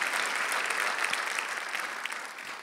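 Steady audience applause, loud and dense, a close wash of many hands clapping that tapers slightly toward the end.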